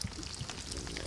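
Wet clothes wrung out in DayZ give a brief, quiet watery trickle and pour, a soft continuous splashing dribble with no talk over it.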